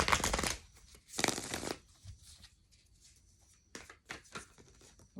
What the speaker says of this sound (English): let's go ahead and just get a couple more cards from this person